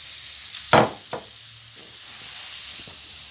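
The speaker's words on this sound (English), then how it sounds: "she's basting the fish now with the garlic butter and the apricot jam" Galjoen fish sizzles while being basted with melted garlic butter and apricot jam as it grills in an oven, soft hissing with a few sharp scrapes and taps of the brush, close and quiet.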